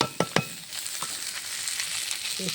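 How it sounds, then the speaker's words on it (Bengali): A spice paste of ground cumin and ginger sizzles steadily in a hot wok in a Bengali vegetable dish, after two sharp knocks. The hiss is close and continuous, with light stirring and no talking. "এই যে কড়াইয়ে ঝালটা ঢেলে দিলাম"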